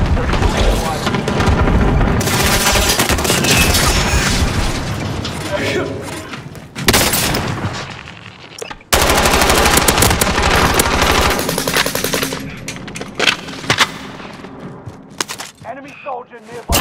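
Heavy gunfire fills a Call of Duty Warzone match on Rebirth Island, with dense automatic bursts, booms and thuds running almost continuously, a brief lull and then more loud shooting, mixed with voices.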